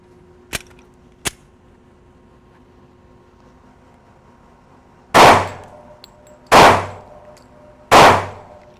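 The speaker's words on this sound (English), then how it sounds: "We're gonna shoot this with hollow point rounds. And again, another 3 rounds." Three loud, sharp handgun shots from a Smith & Wesson M&P 40 firing hollow point rounds, spaced about a second and a half apart outdoors, each with a ringing tail, after two faint earlier clicks.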